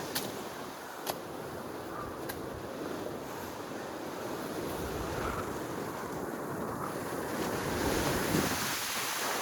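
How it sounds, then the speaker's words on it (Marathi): Steady, roaring monsoon wind on a trek to Visapur Fort blows close to the microphone with a rushing, surf-like texture, buffeting in gusts; no one speaks. "अशा प्रकारे वारा चालू झालेला, सोसाट्याचा वारा"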